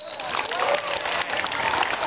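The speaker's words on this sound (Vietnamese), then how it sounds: "Tất cả vỗ tay." An audience claps together in a dense, steady burst of applause with scattered voices mixed in.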